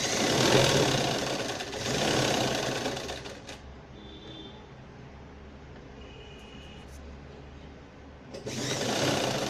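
A sewing machine top-stitches the lining of a party wear gown, running in a close, steady mechanical whir, pausing midway to a quieter hum with light clicks, then starting up again at the end.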